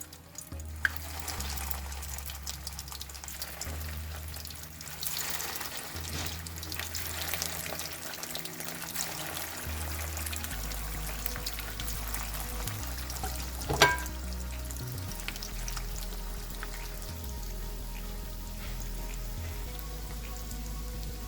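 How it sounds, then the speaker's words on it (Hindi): Shami kabab meat patties fry in a pan with a steady, continuous sizzle and crackle, close and fairly even throughout, with a low constant hum underneath and one brief sharp clink midway. "ये देखिए मैं फ्राई कर रही हूँ सब।"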